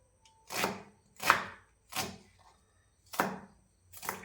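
Five sharp knife strokes chop through soy chunks on a board, spaced irregularly about half a second to a second apart, close and clear with no talking.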